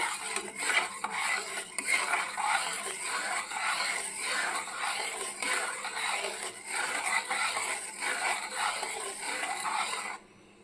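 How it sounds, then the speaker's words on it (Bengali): A spoon stirs milk powder into a semolina mixture in a pot while pantua sweets are being made. It gives a continuous, rhythmic scraping and clinking close by that stops abruptly near the end. "গুঁড়ো দুধটা দিয়ে খুব ভালো করে মিশিয়ে নেব"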